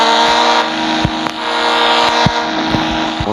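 The Stunt motorbike in a mobile racing video game makes a loud, steady buzzing engine drone with layered harmonic tones and occasional sharp clicks. No one speaks.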